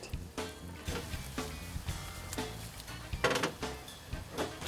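Risotto rice sizzles and bubbles in a pan as mushroom stock is poured in, with a steady moderate crackle broken by stirring scrapes and a few sharper clatters.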